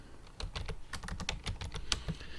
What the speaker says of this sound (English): we start with the project by typing Django admin -admin